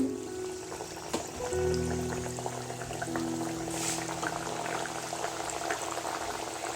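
Thekua dough pieces, made from wheat flour for Chhath Puja, dropped one by one into hot oil and frying with a steady, close bubbling sizzle throughout, with no voices.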